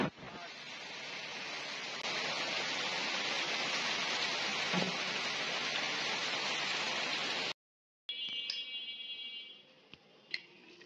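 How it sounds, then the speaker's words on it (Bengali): Heavy rain pours down in a dense, steady roar that holds loud and unbroken for several seconds, then cuts off abruptly to a quieter scene with faint tonal sounds and a few soft knocks. "এই দেখুন জোরে জোরে বৃষ্টি হচ্ছে"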